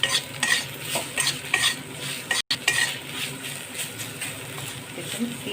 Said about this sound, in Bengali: ডিম আর বেগুনটা মোটামুটি ভাজা হয়ে গেছে